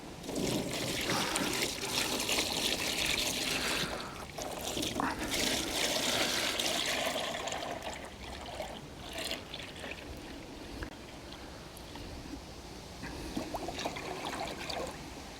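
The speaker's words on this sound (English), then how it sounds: "All right, we've got our sugar water here, again 2 to 1. Get this poured in." Sugar water mixed two to one trickles and pours into a beehive feeder outdoors in winter, a continuous splashing flow that eases off midway and then continues more faintly.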